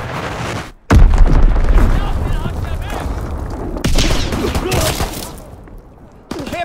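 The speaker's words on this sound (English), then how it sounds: "Dropping Fritz X bomb." In Call of Duty WWII a Fritz X bomb drop brings loud heavy booms, one striking near one second and another near four seconds, each followed by a rolling rumble as voices call out.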